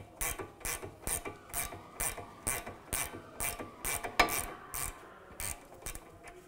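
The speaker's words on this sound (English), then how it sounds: "it would be helpful to use a ratchet wrench" Ratchet wrench clicks in quick repeated bursts close up while backing a nut off a rear shock stud on a 2011-2019 Ford Explorer, about a dozen rhythmic ratcheting strokes with no talk.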